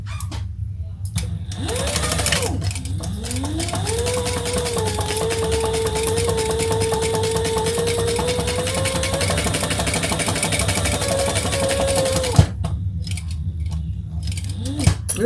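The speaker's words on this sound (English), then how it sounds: "let's stitch down these sides and the bottom." A sewing machine stitches down the sides of a fabric bag, its motor whirring in a steady rapid rhythm for about ten seconds, starting and stopping with small clicks and handling noises.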